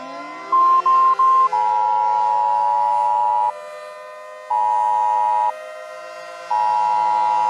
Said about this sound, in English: Sirens will sound when the information is about to broadcast.